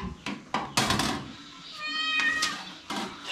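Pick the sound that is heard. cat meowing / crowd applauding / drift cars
cat meowing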